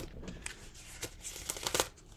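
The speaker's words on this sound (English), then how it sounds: "I think that's enough for the shuffling." Tarot cards are shuffled by hand, giving soft riffling and papery slaps in quick irregular bursts that grow busier toward the end, close up and fairly quiet.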